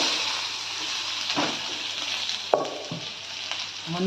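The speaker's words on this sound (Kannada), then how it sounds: "ಸ್ವಲ್ಪ ಫ್ರೈ ಮಾಡ್ಕೋಬೇಕು" Onion, mustard seeds and cumin fry in hot oil in a pan, giving a steady close sizzle with a few sharper crackles and a stir or scrape near the middle, and no voices.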